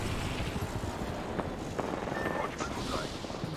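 A helicopter's steady rotor drone fills an Apex Legends match, loud and continuous, with faint distant gunfire and players' voices mixed in.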